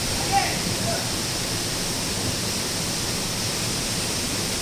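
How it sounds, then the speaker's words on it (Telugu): The Rampa waterfall at Rampachodavaram roars close by in a dense, unbroken rush that fills the whole stretch, with nothing else standing out. "మనకి వాటర్ ఫాల్ పక్కన ఉంది అన్నమాట"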